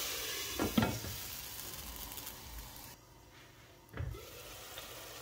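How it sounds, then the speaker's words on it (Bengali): Bengali spice paste for a mrigal fish bhuna fries quietly in oil, a low steady sizzle with a couple of brief stirring scrapes near the start and another around the middle. "দেখো মশলাটা কষিয়ে আসছে, তেলটা উপরে বাইয়ে আইছে।"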